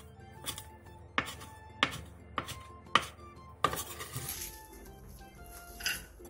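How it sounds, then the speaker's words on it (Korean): Garlic chives are cut into 3 cm lengths with a knife, giving a run of crisp, close knife-on-board chops at an uneven rhythm, about seven distinct strikes, fairly quiet over faint kitchen background. "부추 1줌 반을 3cm 정도 길이로 잘라주세요."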